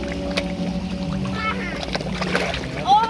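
Fish kept in an earthen garden pond splash and churn at the surface in brief watery bursts, with a voice speaking over the commotion.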